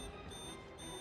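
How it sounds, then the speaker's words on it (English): A steady electronic alarm sounds in a tense medical emergency scene, a continuous buzzing tone with layered pitches, loud and unbroken throughout, with no voices. "The alarm becomes louder."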